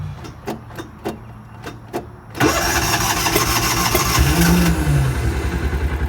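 A Kawasaki Mule utility vehicle cranks with several rhythmic starter clicks before the engine catches and runs, rough and sputtering at a loud, uneven idle with a short rev, close by and no talking.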